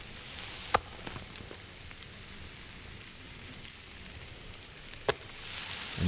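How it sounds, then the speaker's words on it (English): Food sizzling as it cooks in a survival video game, a steady crackling hiss with a couple of sharp clicks and taps, no talking. "Oh, the sound of sizzling."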